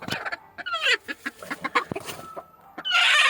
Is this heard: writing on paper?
no